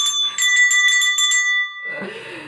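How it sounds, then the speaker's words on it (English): Two bright metallic bells ring in quick repeated strikes, clear and close, then fade out into a softer rustle. "I need 2 bells for this."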